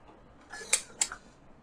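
A film camera shutter, tripped by a homemade mechanical remote cable release, gives two quick close clicks about a quarter second apart in a quiet room.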